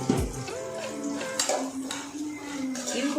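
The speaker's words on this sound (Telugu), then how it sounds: "ఇవి కూడా కొంచెం బ్రౌన్ కలర్ వచ్చేలోపు దాకా వేయించుకుందామండి ఆనియన్ని." Onions fry in a pan for a spicy puffed-rice mixture, with clinks and scrapes of a utensil against the pan over a steady sizzle, close and moderately loud.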